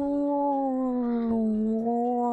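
A voice imitates a whale call with a long sustained tonal moan, gliding slightly in pitch and wavering in the middle, loud and close for a couple of seconds.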